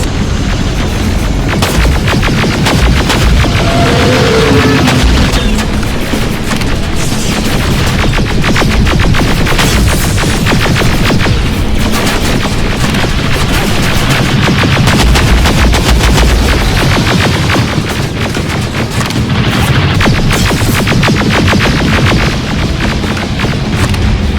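Dense, sustained gunfire and booming blasts from combat in the video game Terminator Resistance, loud and continuous throughout with overlapping shots and explosions.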